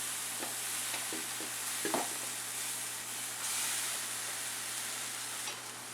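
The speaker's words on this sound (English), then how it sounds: "I'm going to go ahead and add our noodles" Noodles go into a pan of shrimp sauce simmering at a boil for Thai drunken noodles, giving a steady sizzle with a few soft stirring scrapes and bumps, close and moderately loud, no talking.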